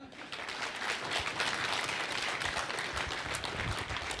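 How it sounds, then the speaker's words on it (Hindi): Audience members clap in a room during a financial talk, a dense, steady burst of applause that fills the few seconds, close and fairly loud, with some low rumble and murmur underneath. "यहाँ तो मस्त लोग हैं, तालियां बजाओ एक बार."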